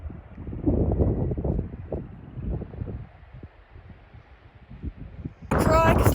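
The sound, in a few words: strong wind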